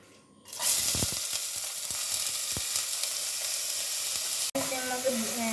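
Onion, carrot and chili hit hot oil and start a loud, steady sizzle that keeps going, with a few clinks and stirring scrapes and a brief break near the end.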